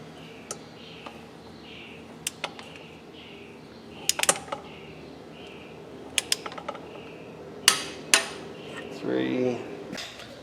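Torque wrench clicking while cylinder head bolts are tightened during an El Camino restoration, a series of sharp metallic clicks at irregular intervals, some doubled, with ratcheting and faint background noise between them.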